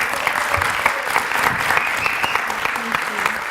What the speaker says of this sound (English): So if you join me in giving a round of applause to Evelina Fredriksson, please.